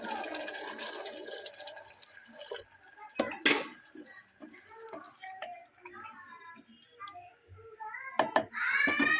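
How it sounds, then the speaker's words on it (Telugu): Water pours into a cooking pot of simmering tamarind broth for egg pulusu, a splashing, trickling stream that swells and fades in short bursts with a few clinks of the pot, fairly close and moderately loud. "కొన్ని వాటర్ కూడా వేస్తున్నా"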